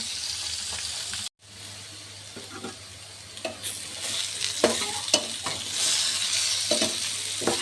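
Fish frying in a pan gives a dense, continuous sizzle, with a brief break early on and then louder bursts of crackle and spatula scraping near the end, close up and with no voices.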